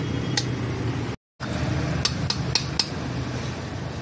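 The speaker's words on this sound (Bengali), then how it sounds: "গ্রেভিটার মধ্যে বাড়ির যে ভিন্ডিটাকে ভেজেছিলাম সেটাকে দিয়ে দিয়েছি। এবার একটু নেড়ে নিলাম।" Fried okra being stirred into gravy in a pot, with steady bubbling and scraping under several sharp metal clinks of a spoon against the pot, close up and moderately loud, cut by a brief gap of silence.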